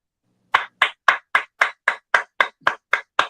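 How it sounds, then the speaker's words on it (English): Eleven sharp, evenly spaced claps ring out alone after a short pause, each one crisp and loud like a single pair of hands keeping a steady beat. "I'm going to give you a round of applause."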